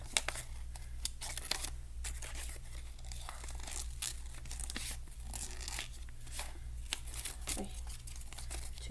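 Scissors snipping through paper during a classroom craft cutout, a steady run of short crisp tearing and crinkling cuts close up over a constant low background hum, with no talking.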